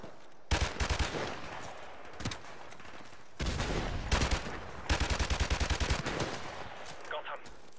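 Rapid automatic gunfire from Modern Warfare Remastered, loud bursts of rattling shots in several volleys with short gaps between, close and dense, one burst trailing off near the end.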